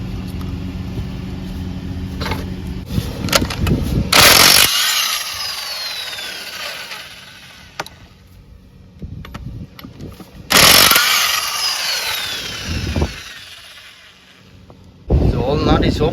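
A power tool loosens 22mm wheel nuts on a Ford E450 during a rear brake job. Several loud, close bursts of impact-wrench hammering come in short blasts, separated by quieter stretches of background noise and handling sounds.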